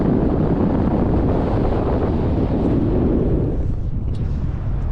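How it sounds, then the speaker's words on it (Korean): Strong wind on an active volcano tour in Nicaragua near the sea, a loud, continuous roar buffeting the microphone with a deep rumble that eases slightly toward the end. "바람이 진짜 시원하게 불어"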